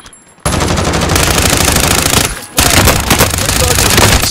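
Rapid automatic gunfire in the Call of Duty Warzone Rebirth map near the prison, loud sustained bursts that fill nearly the whole moment with only a brief pause in the middle.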